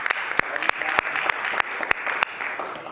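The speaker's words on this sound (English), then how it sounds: "the Finance Minister is clapping wildly" Applause in a House of Assembly chamber as members welcome a guest in the gallery. Sustained clapping runs throughout, with sharp, louder individual claps standing out at a steady rate.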